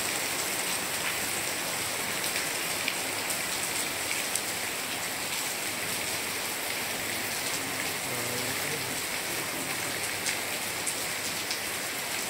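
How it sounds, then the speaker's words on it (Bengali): Steady, dense rain falls on a rainy day, a continuous even hiss of drops striking surfaces nearby, with no talk over it. "ওকে দিয়ে আসার পরপরই এখন বৃষ্টি শুরু হয়েছে।"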